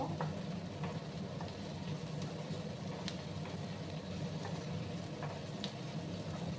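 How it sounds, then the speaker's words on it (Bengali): Cashew nuts frying in a pan for a drumstick recipe, an even, quiet sizzle with scattered small pops and ticks, steady from start to finish with no talking. "দিয়ে একসঙ্গে এগুলোকে আমি ভেজে নেব।"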